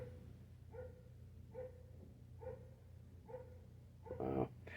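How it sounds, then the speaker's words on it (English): A dog barks five times in a steady rhythm at moderate distance, the last bark louder and more strained, in a quiet room with no talking. "if you hear a dog barking"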